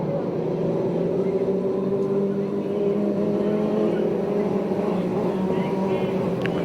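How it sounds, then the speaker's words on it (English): A PASSCAR stock car engine is refired at the Perris, California race track, a steady droning roar running throughout under a race announcer's voice. "Point leader Jared Kramer gets his car refired."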